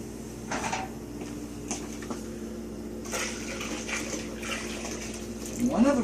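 Hot homemade laundry soap mixture with washing soda poured and swirled from a soap pot into a bucket, sloshing water-like pours with a few clunks, near and moderately loud, with faint background voice.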